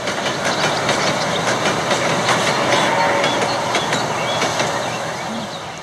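Coast Daylight passenger train running along the Pacific coast, a steady loud rumble of rolling cars with rhythmic clickety-clack of wheels over rail joints, continuous and close throughout.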